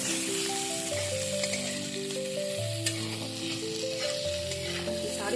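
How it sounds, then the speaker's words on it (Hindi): Cut potatoes fry and get stirred in a pan for hing aloo, a steady close sizzle with scraping stirs, heard under soft background music. "अब हम इसमें कटा हुआ आलू डाल देंगे। और इसे मिक्स कर देंगे।"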